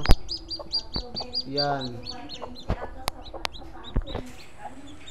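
Newly hatched chicks peep in rapid high chirps beside their mother hen, who clucks low and softly nearby, while someone speaks briefly.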